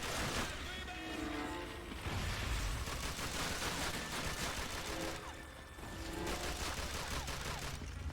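Grease gun fire in Call of Duty: Finest Hour, rapid bursts of submachine-gun shots amid a busy battlefield din of distant gunfire and explosions, with voices talking at times.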